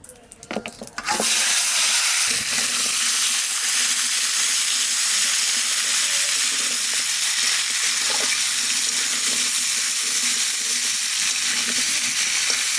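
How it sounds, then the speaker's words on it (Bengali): Elephant foot yam frying in oil left over from frying fish, a loud, steady sizzle that starts abruptly after a brief clatter and continues alone without pause. "এই মাছ ভাজা তেলের মধ্যে ওলডারে ভালো করে ভেজে নেবো"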